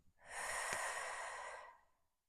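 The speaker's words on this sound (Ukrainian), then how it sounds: "Знову вдих. Три довдихи. І видих." A single slow, steady breath in a diaphragmatic breathing exercise, lasting about a second and a half as a soft airy rush that swells and fades, close and alone.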